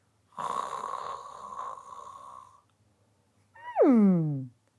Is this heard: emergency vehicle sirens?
no